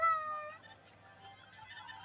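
A cartoonish cat meows once in a Roblox game, a short bright tonal cry at the start, followed by quieter game ambience with a faint low hum underneath, heard alone without talking.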